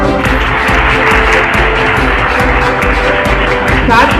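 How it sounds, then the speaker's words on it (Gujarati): Schoolchildren applauding at a school quiz competition as team marks are announced: a sustained, loud wash of clapping from a roomful of students, continuous throughout, with a faint voice rising briefly near the end. "તાળી તો પાડો."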